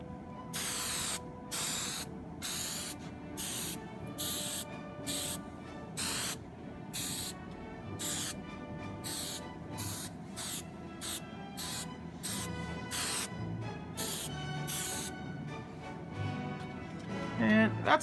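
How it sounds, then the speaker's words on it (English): Hairspray misted from an aerosol can onto a 1/35 scale model German 3 ton truck, a series of short sharp hissing bursts, mostly evenly spaced with some closer together, close by and fairly quiet, with faint rattling between sprays. "I'm going to take and coat it with hairspray, give it a couple, not too heavy coats on it"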